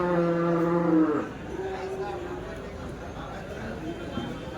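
Cows lowing at a small cattle market in Dhule, with a long deep moo at the start followed by softer bellows from nearby animals over steady crowd chatter and background voices.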